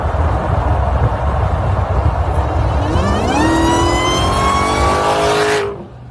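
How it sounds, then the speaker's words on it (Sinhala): An American-made Dodge Challenger Hellcat revs its engine, a loud close roar that climbs steadily in pitch with a rising whine before cutting off abruptly, with no talk. "ඉතින් ඔයාලා මොකද හිතන්නේ ඩොට් චැලෙන්ජර් හෙලිකැට් වාහනය ගැන?"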